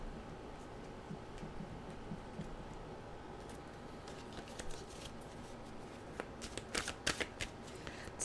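A deck of mantra cards being shuffled, a soft steady papery riffle that grows denser with crisp flicks toward the end, quiet and close with no voices.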